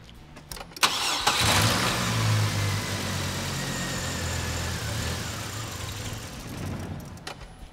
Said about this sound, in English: start the engine until it dies